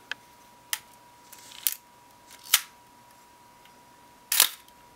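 A Minolta X-700 35mm film camera shutter fires as a series of separate sharp mechanical clicks, about five of them, unevenly spaced, close and clear against a faint steady hum.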